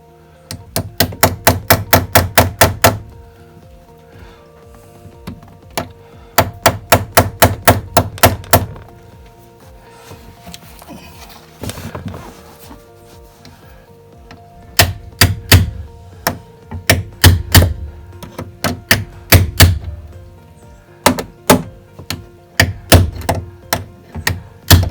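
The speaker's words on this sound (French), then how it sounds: "Prenez le petit marteau si vous avez" A small hammer taps a Citroën AX door stop in quick bursts of sharp, evenly spaced metallic knocks, with pauses between the runs and a brief scraping handling sound in the middle; close and fairly loud, no talking.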